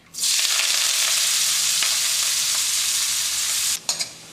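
Sliced onions, green chillies and curry leaves fry in oil for a salmon fish curry, a loud, even, close hiss that holds for nearly four seconds before a few brief clatters as it cuts off.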